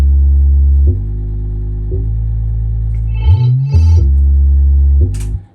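An Amapiano dance beat with a sound from a GMS plugin, built on a loud sustained deep bass that changes pitch every second, with brief higher percussive accents and sweeps toward the end.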